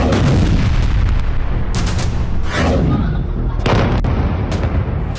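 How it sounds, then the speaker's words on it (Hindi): Loud, repeated booming blasts from drone strikes at night in Donetsk, in rapid succession, dense and rumbling, with several sharp cracks standing out over a continuous roar. "सोमवार की रात डोनेस्क में कई जगहों पर धमाके हुए।"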